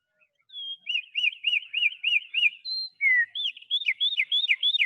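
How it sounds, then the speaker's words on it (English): A wren's song from a back garden, played back at half speed: a long run of rapid, repeated warbling phrases and trills, clear and close, with no talking. "This is a song of a wren from my back garden"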